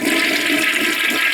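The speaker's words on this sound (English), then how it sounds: "Now if I flush" A toilet in a mobile home flushes with a loud, close rush of water that pours on steadily and without a break.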